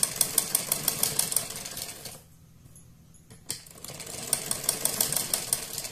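A sewing machine runs in fast rhythmic bursts as it stitches a strip onto a baby dress, pausing briefly in the middle before the steady clatter picks up again.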